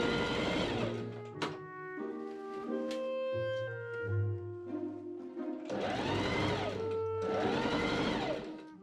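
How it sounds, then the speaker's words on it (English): A sewing machine sews the sleeve seam of an 1890s Victorian shirtwaist, running in close, steady bursts with slight changes in speed and short slowdowns between runs. "I pin the sleeve seam up along the edge and machine sew in place."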